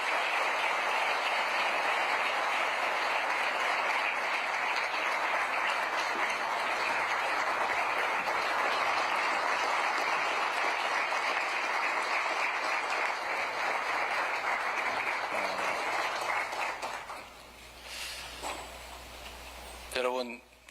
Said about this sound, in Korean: 대통령님을 큰 박수로 연단으로 모시도록 하겠습니다.